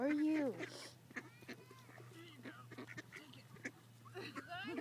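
Geese honk and quack close by while being fed bread, a loud honk at the start followed by scattered short calls, with people talking in between over a faint steady hum.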